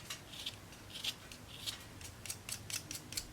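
A black colored pencil is sharpened, giving soft, repeated scraping and grinding strokes that sound faint and close, in a steady rhythm with no talking.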